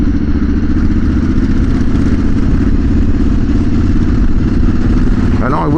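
A motorcycle fitted with a custom twin-pipe exhaust runs steadily and loudly close by, its deep engine drone constant throughout and rising into a brief rev at the end.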